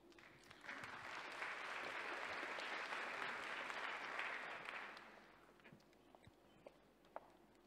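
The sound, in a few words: audience round of applause for ambassadors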